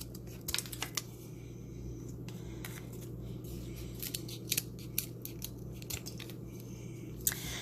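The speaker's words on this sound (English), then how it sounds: "it's a little bit too long, so I have to cut some off of both ends" Scissors snip the ends off a wooden craft stick, a series of short, crisp cuts close by at irregular spacing over a low steady hum, with no talking.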